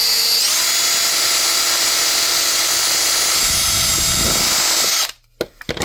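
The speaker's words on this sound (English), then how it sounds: "I don't have enough torque on the drill" A power drill whines steadily at high speed while boring a small hole in a miniature wooden fairy door, a continuous loud buzz that grinds briefly lower before cutting off abruptly, followed by a few small clicks and knocks.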